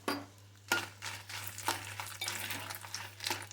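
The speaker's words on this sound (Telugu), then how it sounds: "నూనె పోసుకుంటున్నాం మిర్చి వేయించుకుంటున్నాం ఎండుమిర్చి" Dried red chilies frying in oil in a pan for gongura pickle, with soft sizzling and several sharp scraping stirs of a spoon against the pan, close and fairly quiet over a low steady hum.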